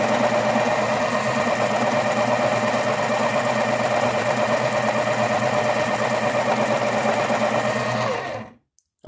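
Staples medium duty electric pencil sharpener running with a steady, loud mechanical whir and hum for about eight seconds before cutting off abruptly into silence.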